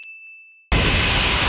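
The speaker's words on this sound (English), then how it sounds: "the moment the bell is struck" A bell in the One Piece anime rings as one long, clear sustained tone that fades, then a loud burst of broadband noise cuts in abruptly and stays dense to the end.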